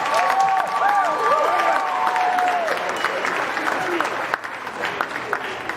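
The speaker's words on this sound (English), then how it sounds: "Let's give him a round of applause." A crowd at a county fair llama and alpaca show gives a sustained round of applause, with clapping that starts strong and tapers slightly while a voice speaks over the first seconds.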